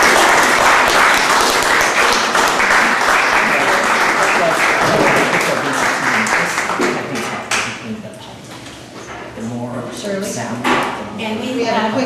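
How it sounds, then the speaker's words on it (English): Loud, dense applause for candidates at a Midcoast community council candidate forum, thick and sustained for about seven seconds before thinning to scattered claps under a voice that starts speaking. "I ask you to join me in a round of applause for the candidates, and a thank you to the Midcoast community."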